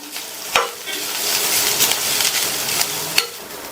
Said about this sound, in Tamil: இந்த தேங்காய் கலவையோட பச்சை வாசனை போக வதக்கி விட்டுக்கலாம்